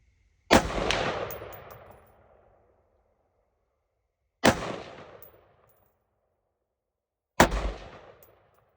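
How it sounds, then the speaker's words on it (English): Three rifle shots at a 100-yard steel target range, each a sharp loud crack with a ringing tail, spaced several seconds apart in otherwise quiet surroundings. "Gotta shoot some steel here."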